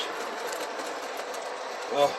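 A model train runs along a layout track with a continuous, low mechanical hum and faint rolling rattle, a brief louder clatter near the end, and a voice partly over it.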